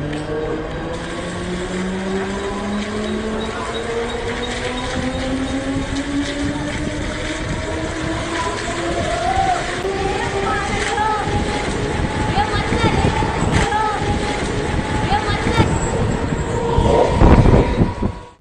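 A train moves through a railway station with a person clinging to its side, a rising motor whine and rolling rumble building steadily louder over about eighteen seconds, with voices heard beneath it.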